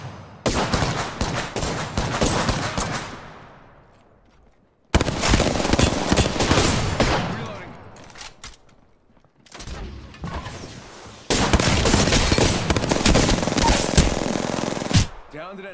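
Bursts of automatic gunfire in the video game Apex Legends, three long sustained volleys separated by short pauses, loud and dense with booming impacts and faint voice chatter in places.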